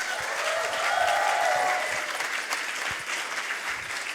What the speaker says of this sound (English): A big applause for Vito Mengers.